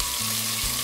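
Onion hits frying cumin seeds in a hot pan, giving a loud, dense sizzle with stirring scrapes throughout the short moment, close up and with no talking.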